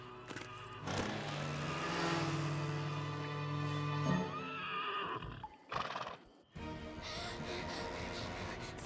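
A cartoon horse from My Little Pony: Friendship Is Magic neighs loudly and at length, followed by snorting and the clip-clop of hooves, all close and prominent with no talking.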